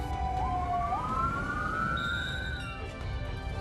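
An ambulance siren wails at an explosion scene, rising and falling in slow sweeps, clear and moderately loud over background noise with no voices.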